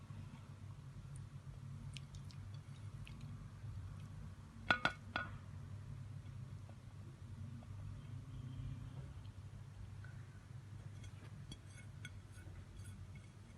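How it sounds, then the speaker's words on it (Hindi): A spoon stirs ingredients into milk in a bowl for an Eid shahi tukray dessert, giving a short cluster of bright clinks midway through an otherwise quiet, low-humming stretch with no talk. "अभी मैं इन सारी चीज़ों को आपके सामने मिक्स कर देती हूँ"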